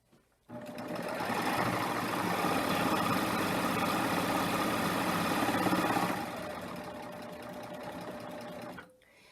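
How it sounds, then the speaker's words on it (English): A serger overlock machine stitching through heavy fabric layers, a loud continuous mechanical whirr running for several seconds before slowing and stopping, followed by a short click. "So I'm going to go ahead and stitch this side until I'm at the corner."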